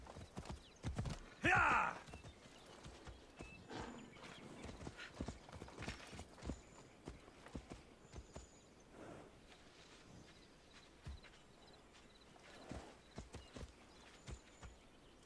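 Horse hooves clip-clopping at a gallop in Assassin's Creed Odyssey, a steady rhythmic patter over game ambience, with a brief loud burst and a shouting voice near the start and occasional whinny-like tones.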